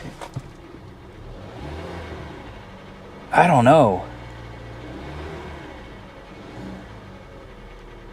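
A car engine that sounds abnormal idles with a low, uneven rumble, briefly rising in a loud whining burst midway; someone speaks a few words.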